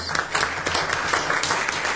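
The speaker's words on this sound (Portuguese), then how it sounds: "Peço aí uma salva de palmas para eles." Sustained audience applause at a debate series on legislative quality, honoring the event organizers: dense, steady clapping from many hands, near and fairly loud, with no talk over it.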